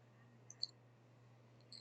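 Sharp, faint mouse clicks spaced through a quiet room with a steady low hum, one at about half a second, a clearer one just after, and a small pair near the end.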